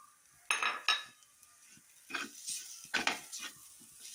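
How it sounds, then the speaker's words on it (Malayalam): Egg masala for egg momos being stirred in a pan, a handful of short scraping clinks of a utensil against metal over a faint background, no voices. "മുട്ട നന്നായി വഴറ്റി കൊടുക്കുക."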